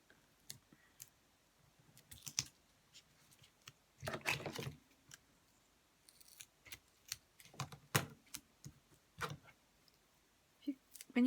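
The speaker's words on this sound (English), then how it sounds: "When you're cutting with your scissors" Scissors cutting through card stock for a holographic Christmas card, a series of sharp clicking snips with pauses between, one longer cutting burst in the middle, fairly quiet and close.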